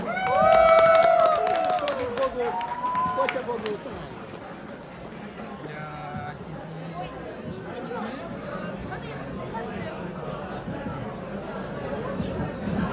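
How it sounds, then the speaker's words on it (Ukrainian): A crowd at an anime festival in Lviv cheers and claps as a voice-acting team comes on stage, a loud burst of whoops at the start settling into a continuing murmur of chatter and scattered clapping. "Під ваші оплески. Зустрічайте!"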